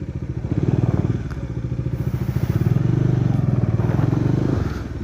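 A motorcycle idles close by with a steady low throbbing pulse, its engine note swelling and dipping slightly with small throttle movements during slow riding.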